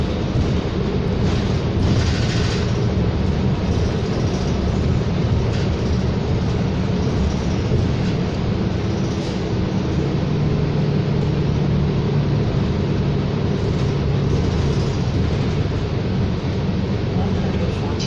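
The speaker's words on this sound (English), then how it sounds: "There's the SD160 LRT train being stopped." An SD160 light rail train on the Edmonton LRT rumbles steadily as it comes to a stop near 72nd Avenue, a loud, continuous low roar with street noise throughout.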